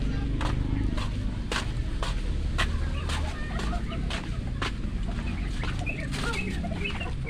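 Chickens and a rooster cluck steadily on a Filipino farm, with short sharp calls repeating over a dense, continuous farmyard din and some low rustling close by.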